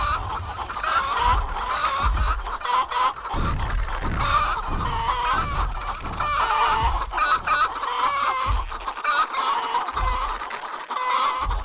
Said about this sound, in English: the chickens really annoy me while I'm doing this